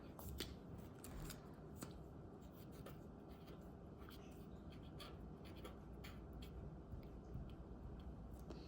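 Scissors snip through paper to make a small sign for a homemade chibi Taylor Swift blind bag, giving quick, close, dry cuts over a steady rustle of handled paper.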